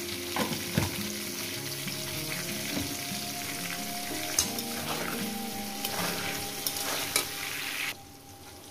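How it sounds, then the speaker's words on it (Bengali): Potato pieces fry in hot oil with a pinch of turmeric in a pan, a close, steady sizzle broken by occasional stirring scrapes and clinks, and it stops abruptly near the end. "আলুটাকে বন্ধুরা এমন করে ভাজবেন যাতে ভাজার মধ্যে সিদ্ধ হয়ে যায়"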